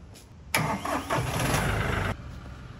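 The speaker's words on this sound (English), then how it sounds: "So while we're letting the tractor warm up," A compact tractor's engine cranks and catches with a sudden loud burst, roars steadily for about a second and a half, then drops to a lower, even idle as it warms up.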